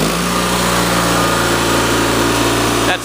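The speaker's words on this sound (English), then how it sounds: "So let me gun it up here. You can see how this thing guns up." Bolens lawn tractor engine with an after-fire solenoid on the carburetor revving up to full speed, a loud, steady, close mechanical drone that holds smoothly before cutting off at the end.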